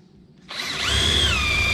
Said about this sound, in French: Et je préperce pour pas éclater mon chevron.